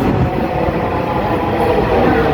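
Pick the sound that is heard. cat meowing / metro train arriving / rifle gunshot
metro train arriving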